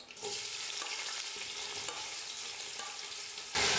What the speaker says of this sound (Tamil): வெங்காயம் நல்லா ப்ரௌன் கலரில் வர வரைக்கும் நல்லா வதக்கிக்க போகிறேன்.